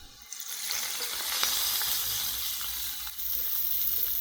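A hot tadka tempering poured over yogurt raita sizzles and fries in a steady, bright crackling hiss close by, with faint stirring and no talk.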